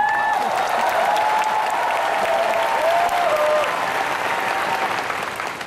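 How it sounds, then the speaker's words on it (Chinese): Dense, sustained applause from a large audience after a speech at a recognition event, loud and continuous throughout before easing slightly at the end, with faint whistles or whoops rising above the clapping. "谢谢你们的掌声"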